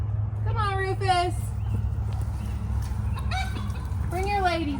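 A rooster gives a few strained crows and short calls amid a flock of clucking hens in a backyard coop, with steady low background noise and a person talking nearby.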